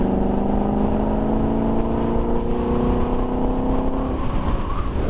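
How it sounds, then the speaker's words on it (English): Road traffic heard from a Zero FXS electric motorcycle, a steady engine and tyre roar from nearby vehicles with a rising whine that shifts near the end, continuous and fairly loud. "Can really hear the other vehicles on the road."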